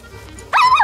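A German shepherd in a park gives a single loud, close bark that rises in pitch and then whines off. A quiet lull comes before it.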